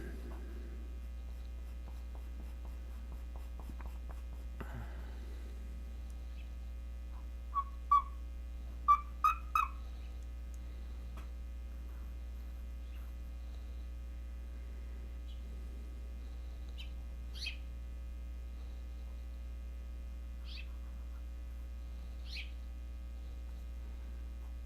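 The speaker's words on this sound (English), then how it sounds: "Got some birds outside my window there." Birds outside a window give a few faint, scattered chirps and whistles, heard distantly beneath a steady electrical hum in an indoor room.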